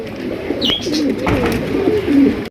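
Pigeons coo steadily in low, throaty rolling calls at a pigeon market, with a chirp or two above a constant crowded background murmur. The sound is close and continuous, then cuts off abruptly.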